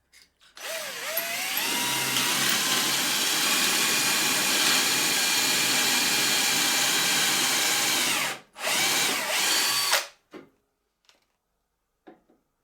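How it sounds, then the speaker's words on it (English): A power drill bores holes into a wooden bookcase board through a doweling jig, a loud, sustained whine for about eight seconds, a brief pause, then a shorter second burst before stopping, followed by faint clicks. "And I can now drill more or less on the marks I made."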